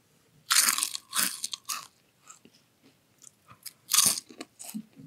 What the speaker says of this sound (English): It's fun crunching into them and busting through that threshold of air.